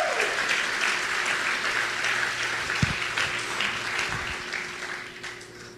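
A church congregation claps steadily and fairly loudly, a dense wash of applause that holds for several seconds and then eases slightly toward the end.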